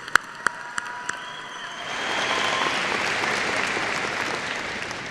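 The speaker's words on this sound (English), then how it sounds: "Please give Hannah a round of applause." Audience applause for graduate Hannah after her song at a high school graduation ceremony: a few sharp early claps, then a dense, sustained ovation that swells in and holds steady to the end.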